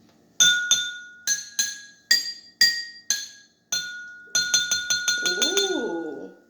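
Drinking glasses struck with a spoon as a homemade xylophone give bright, ringing clinks, first a slow series of separate tones, then a quicker run of strikes that keep ringing while a voice hums along at the end.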